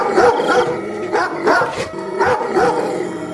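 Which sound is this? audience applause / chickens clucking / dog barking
dog barking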